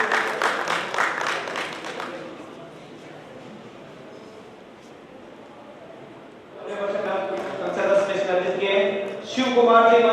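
Audience applause at an honouring ceremony during a blood donation event marking the Jyotiba Phule and Ambedkar jayanti, a steady wash of clapping in the middle, framed by someone speaking over a PA before and after.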